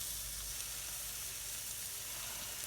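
Fatty tri-tip on a charcoal barbecue grill sizzles in a steady, dense hiss that stays loud and even throughout, with no voices.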